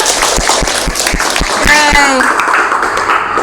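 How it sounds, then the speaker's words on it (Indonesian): Children in a primary classroom clap together in a quick, even rhythm of sharp claps, with voices speaking over and after the clapping. "Tepuk tangan buat Ihsan."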